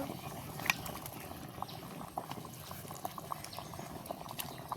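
A covered pot boils steadily as food steams inside, a quiet continuous bubbling with small irregular pops and no talking.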